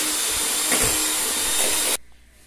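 An electric mixer beats homemade cake batter in a kitchen, a loud steady whir that cuts off abruptly after about two seconds.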